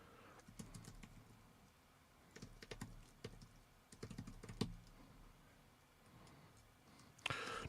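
Close, irregular bursts of clicking from typing on a computer keyboard, coming in quick clusters with short pauses between them and a louder flurry at the end, with no voices.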